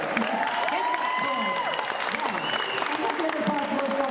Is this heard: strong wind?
no